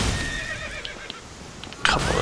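A horse in the video game Elden Ring neighs loudly, a sharp whinny bursting out near the end after quieter game sounds and faint hoofbeats.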